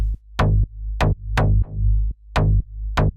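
Two layered synth basses play deep, punchy notes in a short rhythmic pattern, each with a bright buzzy attack over a heavy low end, played alone.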